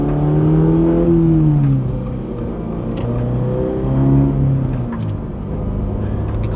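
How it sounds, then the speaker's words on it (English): A Toyota GR86 fitted with an AWE Touring catback exhaust cold-starts with a loud, raspy, high-toned drone that rises, dips and swells again, sustained and close. "These cold starts are loud"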